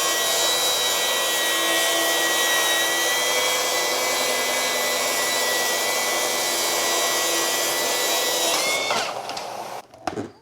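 Milwaukee track saw ripping through wood with a dust collector hose attached, a loud steady whine and rasp of the blade held for about nine seconds before cutting out and spinning down to quiet.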